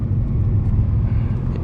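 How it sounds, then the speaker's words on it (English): A car's engine during a downshift: a steady low rumble heard from inside the cabin, moderately loud, with no clear rev blip standing out. "Give it a little downshift. Yeah, the downshifts are nice in this thing."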